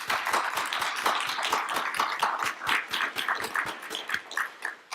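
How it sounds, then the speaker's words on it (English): An audience applauds with a dense, steady patter of many hands clapping at moderate distance, with no talk over it. "give them a round of applause."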